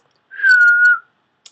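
A single sustained whistled note, clear and fairly loud, held steady for about half a second with a slight downward glide at the end, then silence.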